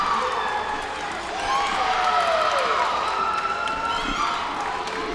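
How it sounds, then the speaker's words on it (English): Gymnastics meet crowd cheering during a women's floor routine, a sustained loud roar of voices with whistles and shouts swelling steadily across the clip. "Crowd's getting pretty loud"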